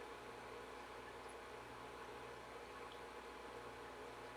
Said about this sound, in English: we have our freeze dryer going